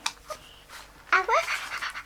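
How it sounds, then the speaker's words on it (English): A dog pants close by in quick, breathy bursts. A person's voice speaks over the second half. "A little doggy."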